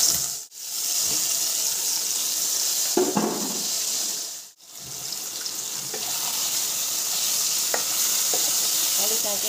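Potatoes fry in oil with cumin in a pan, giving a loud, steady sizzle that breaks off twice for a moment, with scraping stirs and clinks throughout.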